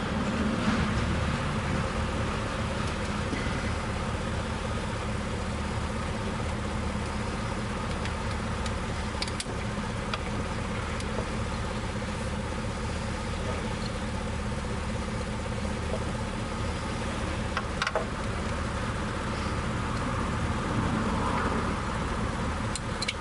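A 1962 Dodge 100 engine cranking and turning over with a stuck intake valve, popping back through the carburetor in a steady rapid ticking chug that runs unbroken and fairly loud, with no voices.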